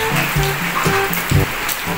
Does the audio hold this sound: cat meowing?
no